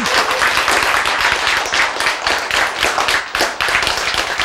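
A lecture audience claps steadily in response to the speaker, a dense, continuous burst of many hands that stays loud and even for the whole stretch with no voices over it.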